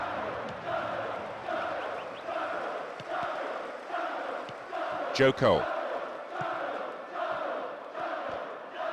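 A stadium crowd in Pro Evolution Soccer 2010 sends up a steady, rhythmic chant and roar during a Champions League final, and a match commentator speaks over it.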